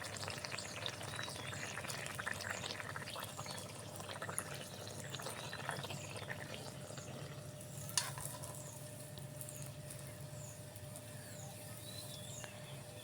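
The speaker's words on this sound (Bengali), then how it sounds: "আমি আস্তে আস্তে সবগুলো পিঠা ভেজে নিব" Khejur-juice oil pitha rice cakes fry in hot oil, a moderate, steady bubbling sizzle with occasional soft stirring scrapes and small pops, heard alone without talk.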